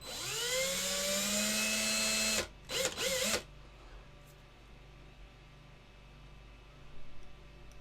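A hand drill bores into a 1/6 scale resin model kit with a steady, close whine that rises in pitch at the start, then cuts off abruptly. A few brief bursts follow before quiet room noise.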